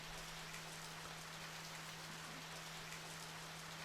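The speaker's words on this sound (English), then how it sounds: "It started to rain." Steady rain falls in the video game Radiant Historia, a constant dense hiss of drops heard alone over a faint low hum.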